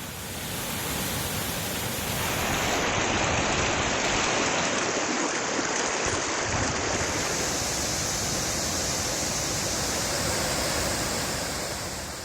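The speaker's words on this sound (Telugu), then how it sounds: "కూనవరం మండలంలో కొండ్రాజుపేట కాజ్వేపై వరద నీరు ప్రవహిస్తోంది." Flood water pours across the Kondrajupeta causeway in Kunavaram mandal after heavy rains, making a loud, steady, broadband rushing roar that stays constant throughout with no voices.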